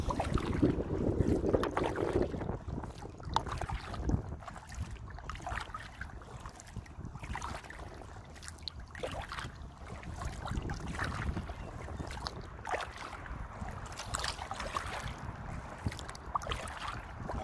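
A kayak travels upriver on the Duck Creek waterway after leaving Lake Ray Hubbard in the morning. Faint paddle splashes and water movement repeat in an uneven rhythm beneath steady wind buffeting the microphone, with no talk.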